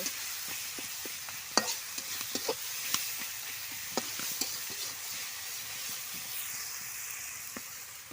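Tomatoes with salt sauté in a pan, giving a soft, continuous sizzle. A utensil scrapes and taps irregularly against the pan as they are stirred.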